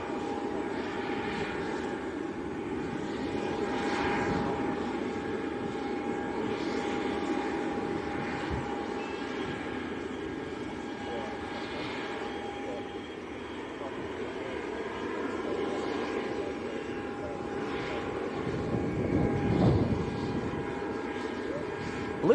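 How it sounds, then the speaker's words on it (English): Steady roar of an aircraft engine at Leeds Bradford Airport, a constant broad drone holding throughout with slight swells, while people talk faintly underneath. "I believe this aircraft is going back out again."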